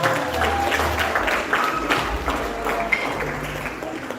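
Audience at a benefit dinner applauding in a room, a dense steady patter of clapping with a few louder claps, continuing throughout with some murmured voices.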